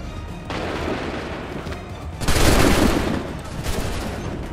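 Massed musket volleys crackle out in Assassin's Creed 3, a dense burst of gunfire followed by a louder, fuller volley in the middle, with scattered shouting mixed beneath the shots.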